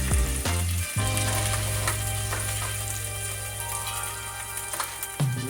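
Chunks of beef searing in a hot pan for stew give a loud, close, continuous sizzle, with a burst of stronger hissing at the start and again near the end.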